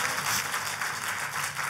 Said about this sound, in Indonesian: Kalau mau tepuk tangannya yang lebih dahsyat lagi buat Yesus Tuhan kita.